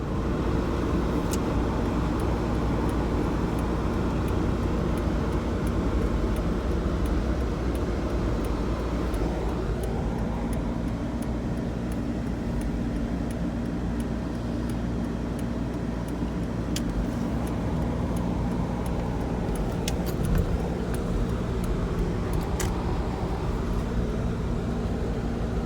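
Interior drone of a Super Suburban driving along a road, a steady low engine and road rumble with tire noise throughout and a few faint clicks and rattles, no talking.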